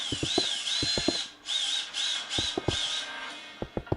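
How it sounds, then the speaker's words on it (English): Power drill boring into a board during an inspection for concealed material, with a loud high whining motor in several bursts and clanking taps and knocks between them, no talking. "there are not many other alternatives but to drill the board"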